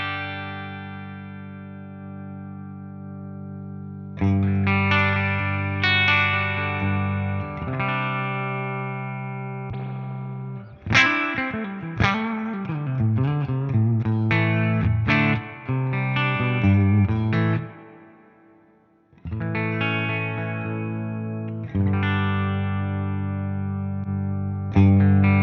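An electric guitar plays sustained chords and melodic runs through an IK Multimedia Mesa/Boogie amp simulator, distorted with chorus and reverb, shifting tones across several phrases alone and upfront.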